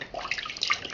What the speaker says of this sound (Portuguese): Tô jogando água na câmera.